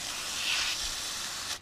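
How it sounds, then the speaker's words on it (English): A hose sprays water onto a muddy dirt bike, making a steady, close broadband hiss that runs without a break and stops abruptly at the end. "Hit it with some water, try and get this heavy stuff off first."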